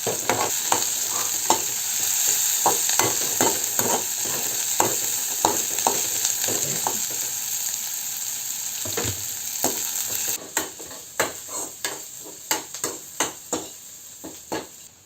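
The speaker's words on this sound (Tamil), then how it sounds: "வெங்காயம் நல்லா வணங்கிக்கலாம் பாருங்கள் இந்த கலர் வந்து அப்படியே ப்ரௌன் கலராக மாறணும்" Onions sauté in a pan until brown for a chicken gravy: a constant sizzle runs under repeated, rhythmic scrapes and taps of a spoon stirring, growing sharper and more spaced toward the end.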